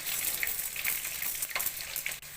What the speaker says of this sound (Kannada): ಸ್ವಲ್ಪ ಫ್ರೈ ಆದಮೇಲೆ ಸ್ವಲ್ಪ ಸಾಸಿವೆ ಕರಿಬೇವು ಹಸಿಮೆಣಸಿನ್ಕಾಯಿ ಕ್ಯಾಪ್ಸಿಕಮ್ಮು ಕಡಲೆಬೇಳೆ ಉದ್ದಿನಬೇಳೆ